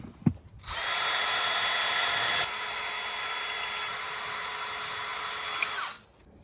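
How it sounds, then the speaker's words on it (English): A power drill bores into a Toyota 4Runner, running as one loud, steady whine for about five seconds after a short knock at the start, then cutting off. "let's go drill this thing"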